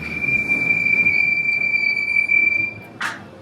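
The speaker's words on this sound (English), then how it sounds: "the train going by." A passing train at Tokyo DisneySea gives a loud, steady high-pitched wheel squeal over rumbling running noise. The squeal stops abruptly near the end, leaving a short hiss.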